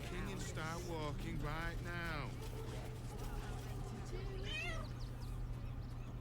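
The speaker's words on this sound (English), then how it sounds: "this ginger kid also has a ginger cat named Grub" A ginger cat in the video game Baldur's Gate 3 gives several plaintive meows in the first two seconds, then a fainter one later, all over a steady low game hum and background ambience.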